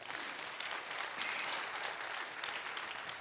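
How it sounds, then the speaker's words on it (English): A church congregation applauds in a steady, moderately distant wash of clapping that holds evenly for a few seconds with no talking over it. "Give yourself a round of applause."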